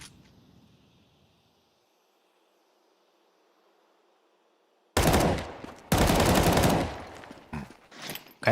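Rapid pistol fire erupts in a Counter-Strike match, dense loud bursts of gunshots after several seconds of quiet game ambience, crackling in two main volleys with a short gap and a few trailing shots.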